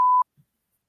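A single short, steady censor beep sounds loud and clear for a fraction of a second, then cuts to near silence with only a faint low blip after it.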